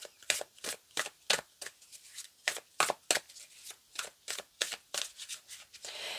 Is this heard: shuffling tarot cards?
yes